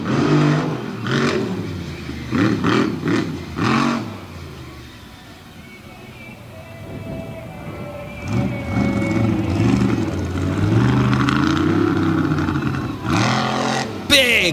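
The Black Stallion monster truck at a freestyle show in Lima, Ohio, roars and revs as it circles an arena infield, its engine surging and easing under an announcer's steady commentary.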